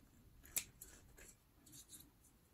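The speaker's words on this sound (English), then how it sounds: "Right here I'm gonna cut." Scissors snipping through a paper map while making a travel folder, a few soft quiet cuts ending in one sharp close snip, with no talking.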